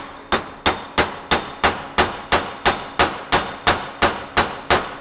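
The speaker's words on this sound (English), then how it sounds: "we're going to peen this and stress relieve it while it's cooling down" Hammer peening a freshly laid tool steel weld made with hardfacing electrodes to relieve stress as it cools: thirteen sharp metallic blows in a steady, even rhythm, close and loud, with no talking.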